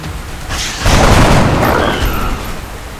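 Weapon fire and a heavy boom from a squad firefight in the turn-based strategy game XCOM: Enemy Within, one loud blast swelling near the start and rumbling on for a couple of seconds.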